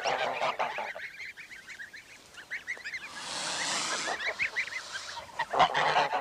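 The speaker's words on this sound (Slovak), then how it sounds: "Našli sme tu veľmi mohutnú a impozantnú tuluskú hus, ako aj naše národné plemeno slovenskú bielu hus." Toulouse geese and Slovak white geese honk in repeated nasal calls, several birds overlapping in irregular bursts at moderate distance, with a brief stretch of louder flock noise in the middle.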